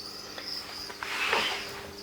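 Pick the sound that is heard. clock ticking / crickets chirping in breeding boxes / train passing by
crickets chirping in breeding boxes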